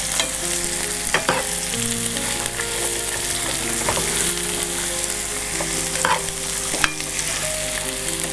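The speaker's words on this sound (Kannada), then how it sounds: "ಇದನ್ನು ಚೆನ್ನಾಗಿ ಫ್ರೈ ಮಾಡ್ಕೊಳ್ಬೇಕು." Vegetables fry in a pan with a steady, close sizzle and intermittent stirring scrapes and clinks against the pan, with no voices.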